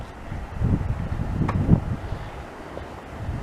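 Cold wind blows across an outdoor city street among apartment buildings in the dark, a broad rumbling gust that swells and fades, close and fairly loud against the microphone.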